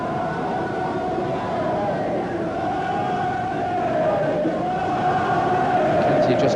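A boxing arena crowd roars continuously in support of Andy Holligan, a loud, dense wall of cheering and chanting with a droning, siren-like tone running throughout.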